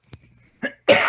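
A single short, sharp cough bursts out close by near the end, after a moment of near silence broken by a couple of faint small noises.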